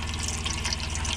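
Hot water runs at a low flow from the exterior washdown tap of a camper van, a steady close hiss and splatter with a faint pump hum beneath, with no talk.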